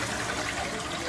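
Engine flush and old oil gushing steadily out of the drain on a 2004 Ford F250 with the 6.0L Powerstroke diesel, a close, continuous wet rushing pour with no pauses.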